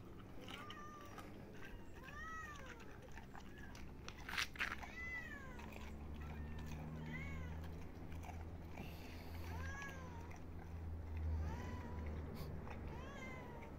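Kitten eating food in a garden in Kemaliye, Erzincan, with soft crunching and chewing close by and repeated meows from other cats around it, fairly quiet overall.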